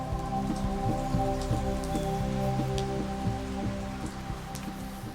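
Steady heavy rain pours down with a constant dense hiss, alongside a repeating low droning rhythm, with no voices.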